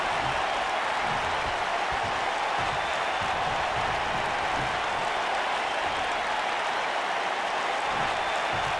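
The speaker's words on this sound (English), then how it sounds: "by the sound of this crowd, I think they're getting what they wanted." Arena crowd in the WWE 2K wrestling video game roaring during a near-fall, a steady dense wash of cheering and applause that holds loud throughout with no talk on top.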